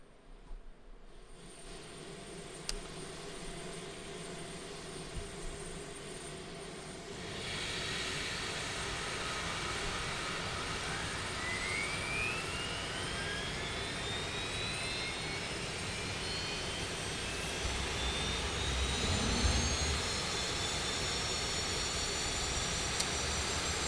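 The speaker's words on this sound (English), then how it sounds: "Starting engine number 3." A Lockheed C-130J turboprop's number 3 engine spools up from a low rumble into a loud, steady roaring whine with rising hiss and tonal sweeps, heard close from the flight deck with no talk.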